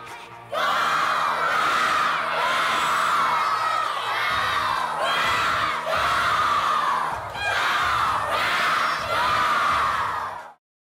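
A school crowd cheers in a gym rally, several loud surging waves of shouting and whooping from many voices, each swell rising and falling in turn before cutting off abruptly.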